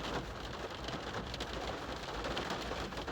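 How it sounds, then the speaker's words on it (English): Heavy rain pours steadily outdoors, a dense, continuous hiss of drops hitting surfaces, with no voices over it. "the rain is terrible where I am at the moment"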